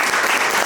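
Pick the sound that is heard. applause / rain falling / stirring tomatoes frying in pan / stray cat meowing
applause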